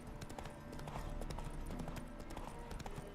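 Horse hooves clip-clop in a steady rhythm in a video game, fairly quiet, with no talking.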